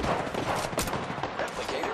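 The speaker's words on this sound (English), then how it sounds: "Oh no, there's another squad attacking. Getting shot at." Video game gunfire crackles in quick bursts of rapid shots, loud and close, over a squad firefight in the game.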